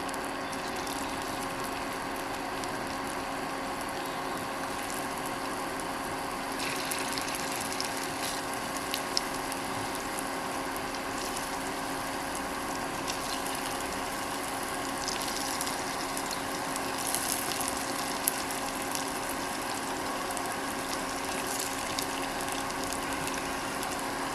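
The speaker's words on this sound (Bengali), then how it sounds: "এখন একে একে বড়াগুলো তেলের মধ্যে দিয়ে দেব" Semolina and raw potato fritters shallow-fry in hot oil, giving a steady, moderately loud crackling sizzle with occasional sharper pops that run unbroken and without talk.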